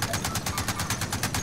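Rapid automatic gunfire from a Modern Warfare Warzone match, a steady stream of loud, evenly spaced shots repeating about ten times a second with no pauses.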